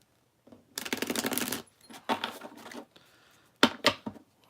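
A deck of cards being shuffled at a tarot-style reading session, giving a long riffling burst followed by shorter bursts and a couple of sharp snaps, close and alone with no talking.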